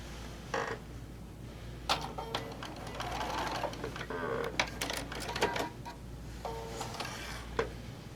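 Short bursts of a sewing machine run in a few separate spurts as a quilt tack is stitched, with a couple of stitches made before and after; the bursts sound close against a quiet room hum.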